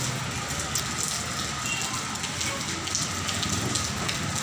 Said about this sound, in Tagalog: ang lakas ng ulan ang dalawang beses bumagsak yan